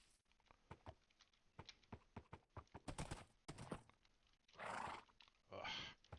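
A horse in Minecraft gives a few short whinnies and snorts, mixed with rapid clip-clop hoof taps and thumps. The sounds are close, crisp and game-like, with no voices.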